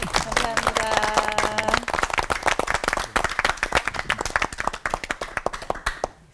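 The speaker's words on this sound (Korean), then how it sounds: "오늘 귀한 얘기 나눠주신 목사님께 박수 부탁드립니다" Audience applause for pastors at a CBS TV church lecture, dense clapping from many hands that continues for several seconds and thins out toward the end, with a voice talking over the start.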